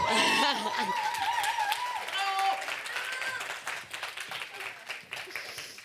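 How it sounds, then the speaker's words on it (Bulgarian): Audience applause at an award ceremony, with clapping mixed with laughter and cheerful voices that gradually thin out. "Аплодисменти!"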